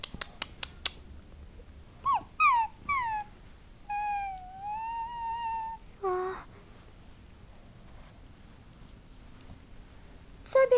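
A cartoon puppy whimpers in a handful of high, whiny, pitch-bending cries, some quick and clipped, one drawn out, separated by quiet gaps.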